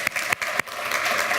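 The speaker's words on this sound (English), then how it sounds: "Give him a round of applause." Audience applause at a community coffee meeting with the mayor, a short burst of clapping from a small gathering, close and steady, with a few sharper individual claps near the start.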